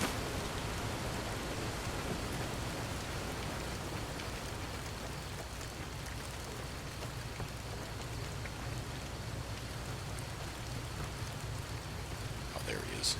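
Steady, dense rain falls without a break in the Fallout: New Vegas video game, a constant hiss at moderate level lasting the whole stretch.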